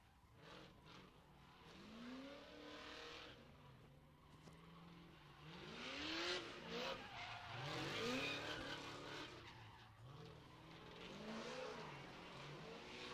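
A drift car rips through a residential neighborhood, its throaty engine revving up and down in repeated rising and falling pulls with some tire noise, heard from a distance and fairly faint.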